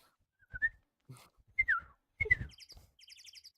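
Birds in a video game chirp in short whistled notes and rapid, stuttering trills, loud and close against a quiet background, with brief game sounds between calls.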